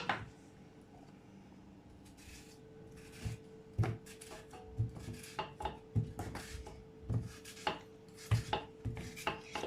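Potatoes are sliced into rounds with a knife on a cutting board, giving a series of crisp, close chops in an irregular rhythm that speeds up toward the end, with no voices.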